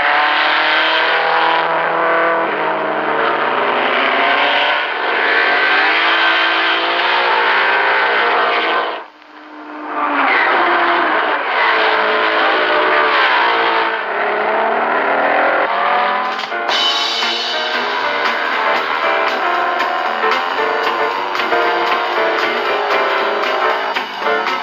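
Race cars at the 1973 24 Hours of Le Mans on the Sarthe circuit roar past in a loud, dense engine din, with revving and passing engines, a brief dip in the noise midway, then the sound surges again.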